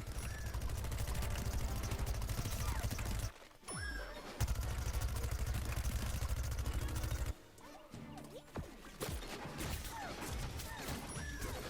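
A zombie's cannon fires during a Plants vs Zombies Garden Warfare 2 match, with loud continuous bursts of blasts and impacts and brief drops into quieter game ambience between them.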